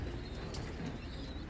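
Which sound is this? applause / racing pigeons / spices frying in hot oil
racing pigeons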